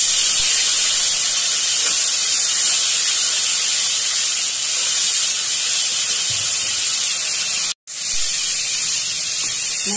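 Water poured onto hot fried spices in a pan for Bengali hilsa curry, a loud sustained hiss and steam that runs nearly unbroken, with one sharp momentary drop.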